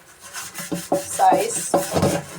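A cooking pot scrubbed with sandpaper and baking powder, giving repeated rough rasping strokes in an uneven rhythm, close up, with a brief spoken word.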